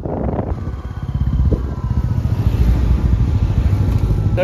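A Royal Enfield Bullet motorcycle rides along a mountain road near McLeod Ganj, its engine thumping in a steady, close, loud rhythm that holds throughout with faint rattles and no talk.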